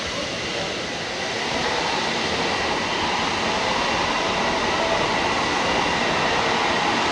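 A new purple Kolkata Metro train runs along the line toward Howrah, giving a loud, steady rumble and hiss close by that builds slightly and holds throughout, with no talk.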